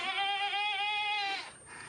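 A goat lets out one long, quavering bleat close by while being milked by hand, fading into soft background noise at the end.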